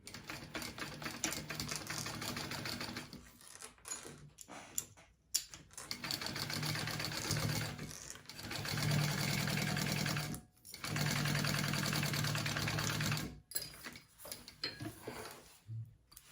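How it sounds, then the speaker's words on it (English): A sewing machine stitches a bag seam in several bursts of rapid, even whirring, pausing and restarting between runs, close and fairly quiet. "I'm going to sew that on at my seam allowance."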